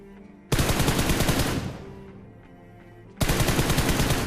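Automatic gunfire crackles during a video game battle: two loud, rapid bursts, separated by a quieter pause with fading echoes, and no speech.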